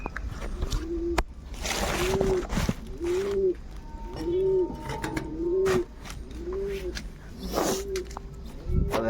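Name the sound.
pigeons cooing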